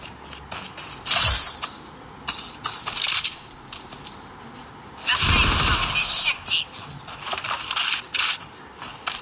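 Gunfire from a shotgun in the mobile shooter game Blood Strike, sharp bursts with a loud cluster mid-clip among mechanical clicks and game effects.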